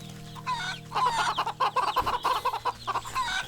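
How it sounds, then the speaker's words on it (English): A rooster in the video game Wytchwood, near a farmer's area, clucks in a quick series of close, clear calls that run for a few seconds with no talk over them. "That's a rooster."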